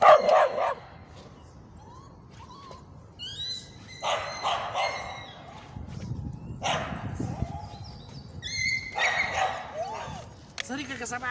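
A dog, presented as "Dikiy Bely Klyk" (Wild White Fang) during filming for a TV program, gives a few short barks and yips in separate bursts, close by, with people talking and a voice mimicking a woof.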